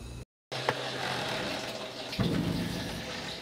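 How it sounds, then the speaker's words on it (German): Water tanks being filled aboard a sailboat, heard as a steady, close rush of running water that continues almost without break, with a brief dropout near the start and a slight swell later on. "jetzt nutzen wir natürlich hier nochmal die Chance, alle Wassertanks aufzufüllen"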